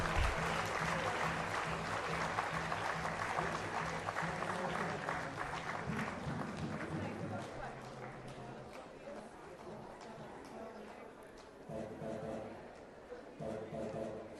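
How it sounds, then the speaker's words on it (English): Attendees at a cyber crimes conclave give a round of applause during a memento presentation, a broad crowd clapping that gradually thins while loud stage music plays and voices come and go. "I want all of you to give a huge round of applause."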